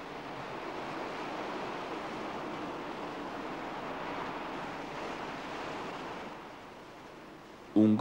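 Violent ocean waves crash and churn in a steady, roaring surf wash mixed with wind noise, fairly loud and continuous, easing slightly before a sudden loud burst at the very end.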